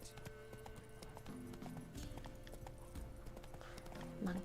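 Hooves of a horse in The Witcher 3 clip-clop at a steady pace, faint under continuous game ambience and music.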